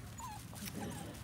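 Standard Schnoodle puppies playing outside, letting out a few thin high whimpers and yips over a low continuous background, close and fairly soft.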